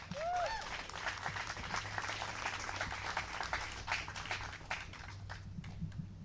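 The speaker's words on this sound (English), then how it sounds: "Let's give it a clap" Crowd applause at an outdoor press gathering where a family speaks about a detainee's death, moderate clapping sustained for several seconds with a brief voice near the start.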